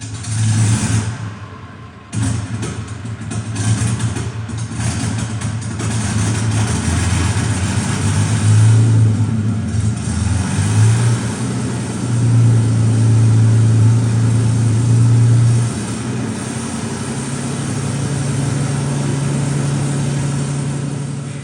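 A recording approximating a Rolls-Royce Merlin engine plays on a de Havilland Mosquito replica, a continuous throaty drone that swells and surges in pitch, steady and fairly loud with no voices over it.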